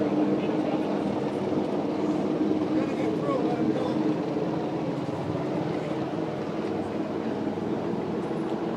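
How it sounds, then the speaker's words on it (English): A helicopter drones steadily overhead at a cross-country mountain bike race at Bonelli Park, a constant mid-to-low rumbling whir that holds at an even level throughout. "Just listening to the helicopter overhead."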